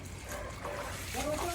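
Floodwater from a typhoon splashes and sloshes close by, rising quickly, while people talk excitedly over it.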